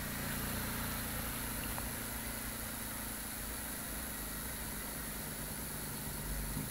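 A homemade pulse motor spins steadily, giving a continuous low mechanical hum with faint vibration, constant and close throughout with no talking.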